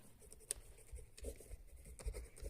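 Chalk or marker writing on a board during a Class 10 maths lesson on arithmetic progressions, quiet irregular scratches and taps, faint and close, with no speech.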